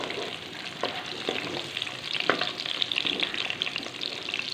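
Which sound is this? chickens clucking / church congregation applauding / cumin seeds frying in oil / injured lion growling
cumin seeds frying in oil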